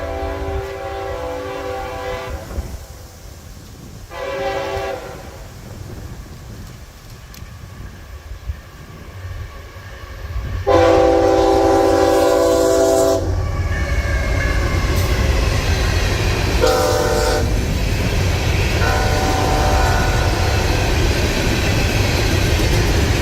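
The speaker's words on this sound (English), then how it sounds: "one of them being a W084, a Herzog ballast train." Herzog ballast train passing with repeated loud horn blasts, a long sustained blast and several shorter ones, over a heavy rumble and rolling clatter of rail cars that grows louder and continues as the train goes by.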